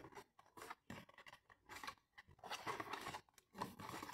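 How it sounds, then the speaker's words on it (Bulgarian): Scissors cutting open a well-wrapped parcel during a haul unboxing: a series of quiet, close snips and raspy scraping and rubbing sounds in an uneven rhythm, with no talk. "Айде взема ножицата."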